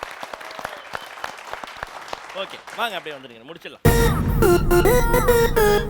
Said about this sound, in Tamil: அவங்களுக்கு ஒரு பெரிய கைத்தட்டல் கொடுத்துருங்க.